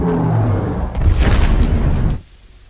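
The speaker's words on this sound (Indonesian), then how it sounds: "bahkan tembakan basoka pun tidak bisa membuat Arthur tumbang." A heavy, booming bazooka blast from the film Aquaman (2018) lasting about a second, with a rough roaring tail that cuts off abruptly, like a shot exploding nearby.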